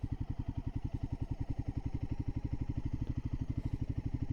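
A Royal Enfield Himalayan 450 motorcycle runs close by with a rapid, even engine pulse, the throbbing beat holding steady and loud for a few seconds with only slight swells rather than a sharp rev.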